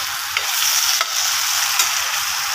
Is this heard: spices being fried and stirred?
yes